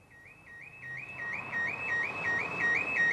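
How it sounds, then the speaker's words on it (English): A truck's alarm going off outside a disused warehouse by a canal in Hackney, a rapid repeating electronic warble that swells steadily louder, with a faint low rumble beneath. "The villains had somehow triggered the truck's alarm on the way"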